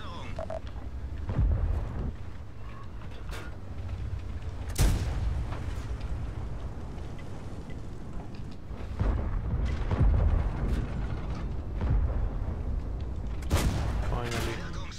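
Tank cannon shots ring out in a tank battle video game, several sharp heavy booms spaced irregularly over a rumbling background of engine noise and battle sounds.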